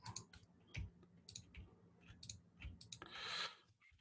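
Computer mouse clicking, a scatter of faint, sharp, dry clicks in irregular quick succession, close and quiet, with a brief rustly burst near the end.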